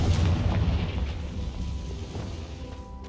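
A Confringo fire spell bursts in the Hogwarts Legacy video game, a loud deep boom at the start that rolls into a rumbling decay and fades over a few seconds.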